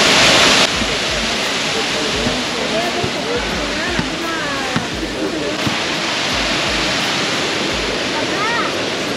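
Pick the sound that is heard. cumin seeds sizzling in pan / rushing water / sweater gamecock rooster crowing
rushing water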